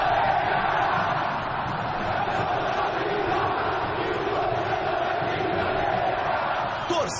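A vast crowd of Flamengo and Corinthians football supporters roars continuously at a Copa do Brasil match, a dense, steady wall of cheering and chanting that holds the same level throughout, with a brief burst near the end.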